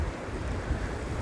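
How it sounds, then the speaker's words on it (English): Sea surf rolling along a New Zealand coast near seals, a broad steady wash of waves mixed with gusty wind buffeting the microphone, loud and continuous with no voices. "beautiful bit of sea here"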